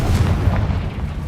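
Blasting spell explosion in Hogwarts Legacy, a loud deep booming blast with rumbling low end that sustains through the short moment, alone without talk.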